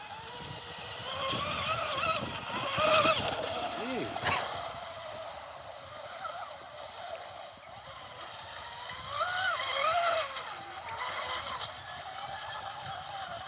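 A Mini Zonda 6S outboard motor pushes a small boat at high speed, its engine whining and wavering as the hull skims and bounces over the water, with people exclaiming over the roar.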